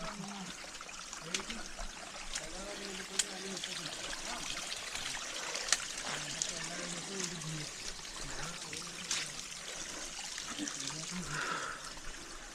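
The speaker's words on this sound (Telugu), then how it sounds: "మొత్తం వాటర్ వస్తున్నాయి, వర్షం పడుతుంది" Rain falls and water trickles and streams along a mountain trek path near Harihara Fort in Nashik, a constant close wash of running water with faint voices in the background.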